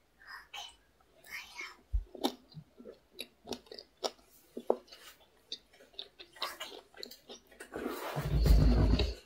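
Someone bites into a crunchy chocolate bar styled after Dubai chocolate and chews it up close, with a quick run of crisp cracks and crunches and soft mouth noises, then a louder rustling burst at the end.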